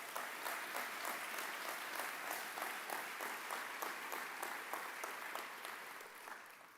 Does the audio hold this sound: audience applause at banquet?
yes